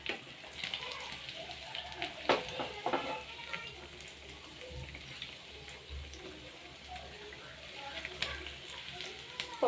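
Fish frying gently in a pan on a low flame makes a soft, continuous sizzle with occasional light clinks and stirring noises, heard nearby beneath intermittent speech.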